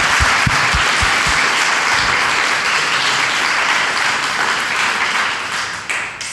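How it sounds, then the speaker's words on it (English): An audience gives a huge round of applause for two presenters at a talk, a loud dense wash of clapping that holds steady throughout, with a few sharper individual claps near the start. "So can we have a huge round of applause, please, for Lisa and Louisa?"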